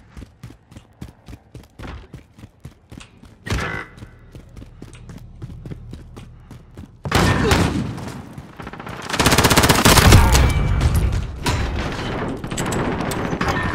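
Pistol gunfire in Call of Duty Modern Warfare (2019), starting as a rapid string of sharp single shots and swelling into a loud, dense barrage of shots and blasts in the second half.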